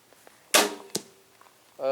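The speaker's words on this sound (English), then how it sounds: "I'll aim a little bit higher at the top of that black so I don't hit another arrow." A Parker Challenger crossbow arrow strikes a target with a sharp, loud impact, then a second fainter knock follows, with a brief voice starting at the end.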